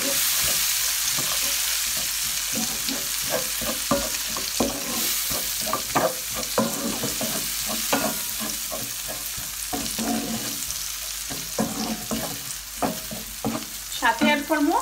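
Frozen vegetables sizzle steadily in a hot frying pan while being stirred, with repeated scraping and clattering strokes throughout, close and fairly loud, no talking.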